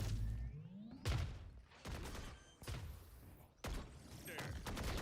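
Missiles launching in a tactical shooter video game, several quick booming shots in succession with whooshing trails, moderately loud and close.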